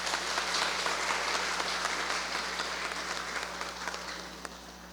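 An audience at a parish festival for São Sebastião gives a round of applause, a broad crowd of hands clapping steadily and then gradually fading, with a low hum beneath it.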